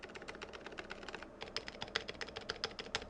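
Rapid, hard typing on a Cannonkeys AN-C mechanical keyboard in a Sentraq 60 case, with dense, close keystrokes at an uneven rhythm and a brief pause partway through before the clacking resumes louder.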